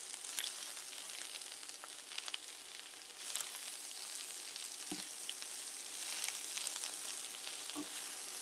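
Cabbage sizzles steadily in a hot pan, with scattered sharp pops and crackles breaking through the quiet frying hiss.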